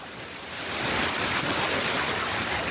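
Heavy rain falls outdoors in Karnataka as a dense, steady hiss that swells slightly and stays loud and close, with no talk.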